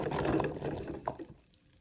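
Liquid pours out of a can of chickpeas in a short, close splashing gush that trickles off and fades within two seconds.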